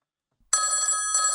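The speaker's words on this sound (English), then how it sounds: "It's my phone." A phone ringing in Football Manager 2024: after a moment of silence, a bright electronic ring starts abruptly, pauses briefly and resumes, loud and close.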